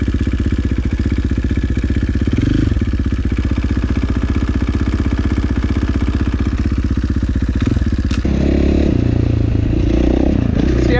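A factory edition 450 dirt motorcycle engine runs loud and close, a rapid steady thumping putter that shifts and roughens near the end as the revs change.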